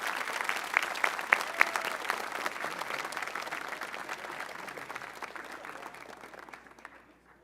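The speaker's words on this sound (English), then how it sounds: "another round of applause for our third turnaround winners, Amar White" Audience applause at a high school honors assembly for an award winner, a dense steady clapping from a large crowd that carries on for several seconds and then tapers off at the end.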